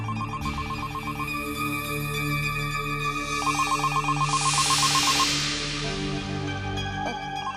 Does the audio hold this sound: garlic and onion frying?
no